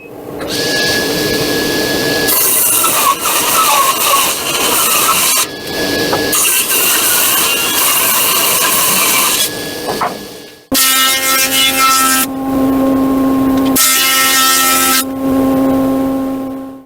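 A thickness planer thinning a wooden strip for bending and gluing, a loud, close motor whine with a raw cutting roar as the wood feeds through in several passes, pitch shifting between runs.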